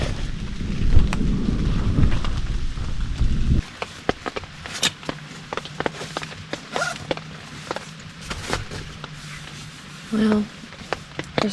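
A severe thunderstorm over a solo tent campsite opens with a loud, low rumble of thunder and heavy rain, then thins to scattered patter and sharp taps on the tent.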